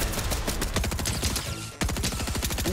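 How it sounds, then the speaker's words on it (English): Rapid, continuous SMG fire in Fortnite crackles in dense bursts, with a brief break before another fast burst. "This SMG goes crazy, even versus Mythics."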